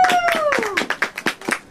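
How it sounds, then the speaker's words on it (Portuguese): Scattered hand clapping from a small crowd at a mountain bike marathon awards ceremony for the third-place finisher, distinct separate claps in an uneven rhythm, with a sliding whistle-like tone early on. "Nossa salva de palmas aí, minha gente."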